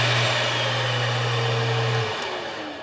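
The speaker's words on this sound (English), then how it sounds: "Level 3 kind of sounds like a real vacuum." A pet grooming vacuum's steady motorized whir drones loudly for about two seconds, then cuts off as the motor winds down and fades.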